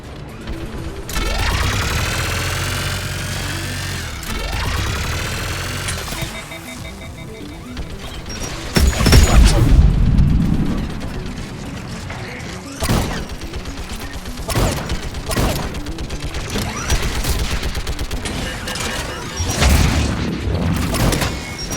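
Automated turrets firing during combat in the Mass Effect 3 video game: heavy booming blasts and rapid bursts of weapon fire over a mechanical whine, loud and close, coming in uneven volleys.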